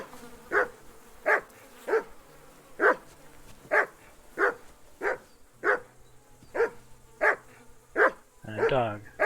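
A dog in the video game Kingdom Come: Deliverance II barks steadily, about a dozen evenly spaced, mid-distance barks in a regular rhythm, with a brief voice near the end.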